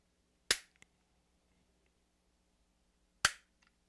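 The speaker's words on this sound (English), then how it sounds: "Now I'm going to push up on my safety, and I'll fire this thing. I'll dry fire it." A 12 gauge double barrel shotgun is dry fired twice, each hammer falling on the empty chambers with a sharp metallic snap and a faint follow-up click, separated by a few seconds of quiet.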